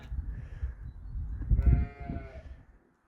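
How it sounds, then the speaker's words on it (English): Show sheep being halter trained let out a couple of close, wavering bleats, the second louder and more drawn out, over a low rumbling background before fading to silence. "While I'm picking flowers, Mason's training show sheep."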